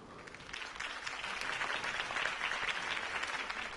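Dense crowd applause fills the scene after a campaign speech in a Batman video game, steady and sustained clapping from a large audience throughout, with no voices over it.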